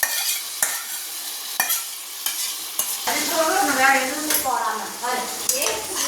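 Marinated mutton sautéing in a pan for a spicy Madurai-style mutton chalna, with a sharp clatter of a spoon stirring and scraping in the first half, then a loud, bubbling sizzle as the meat fries.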